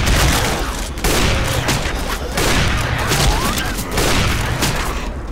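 Dense, loud gunfire from the Left 4 Dead zombie shooter game comes as rapid bursts and overlapping shots, forming a nearly continuous barrage with booming low end, while players talk faintly underneath.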